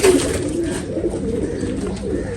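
Pigeons coo softly and repeatedly, close by, with low murmuring calls overlapping in a continuous burble.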